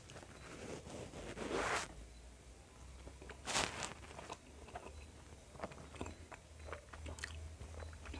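Soft idli eaten with chutney, heard as quiet close-up biting and chewing with a few crisper bites and wet mouth sounds between softer stretches, with no talking.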